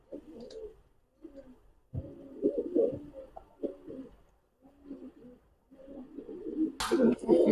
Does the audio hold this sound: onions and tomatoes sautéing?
no